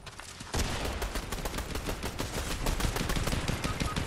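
Rapid video game gunfire, a dense stream of sharp repeated shots like a machine gun, loud and close, continuing nearly the whole time without talk.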